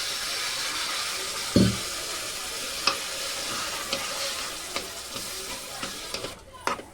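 Masala with peas and potatoes sizzles loudly in a pan while a spoon stirs it, with a steady frying hiss broken by a series of scraping knocks against the pan.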